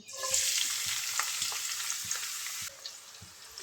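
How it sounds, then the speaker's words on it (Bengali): Chopped onions, about one and a half cups, fry in oil for beef tehari, giving a steady bright sizzle. Soft, regular stirring knocks come up close beneath it, and the sizzle drops a little toward the end. "পেঁয়াজটা আমি নেড়ে চেড়ে লাল করে ভেজে নিয়েছি"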